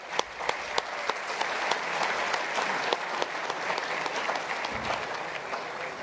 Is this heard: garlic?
no